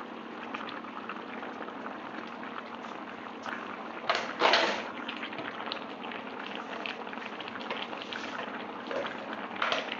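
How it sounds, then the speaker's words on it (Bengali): Rohu fish curry broth with fresh vegetables boils in a wok, a close, steady bubbling with a brief louder gurgle and splash partway through, no talking. "এই ফুটন্ত অবস্থাতেই মাছগুলো ছেড়ে দেবো"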